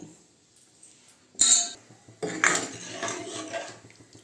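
A metal spoon scrapes and clinks against a pot of dal sambar, with a sharp clank followed by a few seconds of stirring and scraping.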